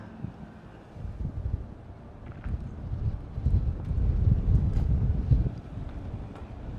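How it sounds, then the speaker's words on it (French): Wind buffeting the microphone outdoors in Jakarta, Indonesia, in a steady low rumble that swells louder midway, with no voices. "Il y a un peu trop de vent."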